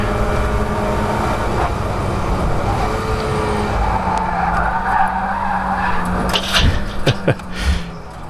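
Mazda MX5 race car at Croft circuit, tyres skidding through a corner at high apex speed: a loud, sustained engine drone with smeared tyre scrub, building to harsher squealing bursts near the end.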